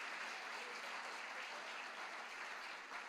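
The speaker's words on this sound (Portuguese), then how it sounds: "Você pode aplaudir Jesus?" A church congregation at a celebration service claps continuously, producing a dense, even wash of applause that holds steady throughout.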